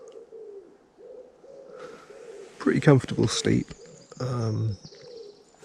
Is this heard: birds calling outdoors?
yes